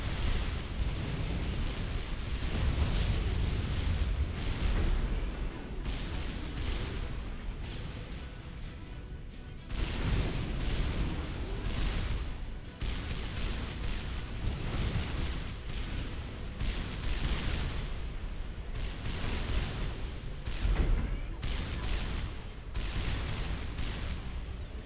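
Artillery fire booms and rumbles in a Supreme Commander: Forged Alliance real-time strategy battle, a dense continuous barrage of overlapping deep blasts and crashes across the whole stretch, with no voice over it.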